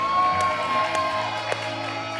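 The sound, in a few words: studio audience applause and cheering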